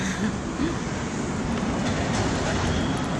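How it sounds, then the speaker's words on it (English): An airport terminal tram in New York rumbles along steadily, a continuous rolling noise with a low hum that fills the whole stretch, with no clear talking over it. "sasakay muna tayo ng tram going to our terminal"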